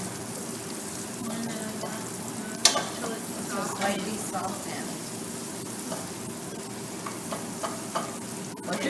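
Mirepoix sautéing in rendered fat in a pan, a steady close sizzle with occasional stirring clinks and scrapes, a voice faintly in the background.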